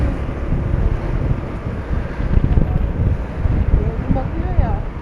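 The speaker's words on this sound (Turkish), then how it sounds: "Rüzgar da var ister istemez." Wind blows outdoors on a rainy day, buffeting the microphone with a loud, continuous low rumble and gusts, while a voice briefly speaks under it.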